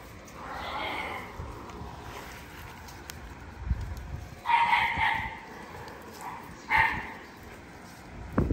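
Dogs bark in a few short, fairly close bursts outdoors, with quieter yips and scuffling noise between them.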